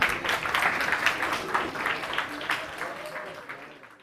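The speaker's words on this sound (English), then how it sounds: "a big round of applause" An audience at a college lecture hall gives a big round of applause that rolls on as a thick, steady clapping wash, then gradually fades toward the end.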